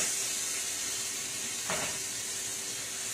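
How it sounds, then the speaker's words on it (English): Peppers and onions frying in a pan, a steady close hiss and sizzle with a faint background hum and one brief clatter midway. "our peppers and our onions, and we are going to fry these until they are softened"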